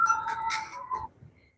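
A phone rings out with a short electronic ringtone melody from an incoming spam call during ocean fishing, a few bright tones that stop after about a second, leaving quiet background.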